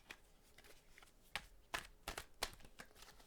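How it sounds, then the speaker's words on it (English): A deck of tarot cards riffled and shuffled by hand, with several short, crisp bursts of card flutter standing out above a faint background, close and alone. "I'm going to pull a few cards as I'm shuffling"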